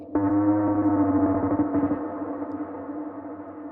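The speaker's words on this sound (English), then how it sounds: "Reverb coming through Valhalla vintage verb, of course." Bass house synth chord passing through a Valhalla Vintage Verb reverb plugin, a sustained buzzy tone that cuts off and leaves a smooth reverb tail fading away alone.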